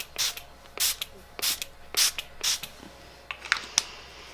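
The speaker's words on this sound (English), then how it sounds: "I am going to put on a little setting spray" Makeup Forever Mist and Fix setting spray is misted onto a face in five loud, close pumps about half a second apart, each a short sharp hiss, followed by a few softer clicks.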